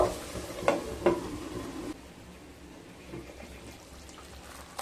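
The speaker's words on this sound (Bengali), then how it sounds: "এবার ঢাকা দিয়ে 5 মিনিট লো স্টিমে রান্না করে নেব।" Bengali macher kalia, a katla or rui fish curry with coconut milk, cooking in a pan: a few close spatula scrapes and a soft sizzle at first, then a low, steady simmering hush.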